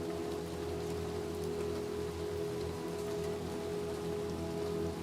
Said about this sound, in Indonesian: Hujan lagi dong.